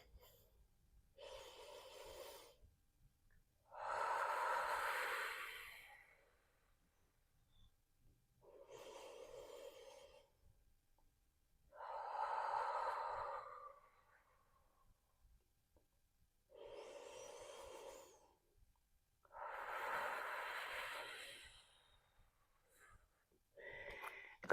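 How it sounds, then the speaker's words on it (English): Long, deep breaths taken during an exercise class, close and airy, with slow inhales and exhales repeating about every four seconds, alone in quiet surroundings. "We're going to do that one more time for 3 more long breaths."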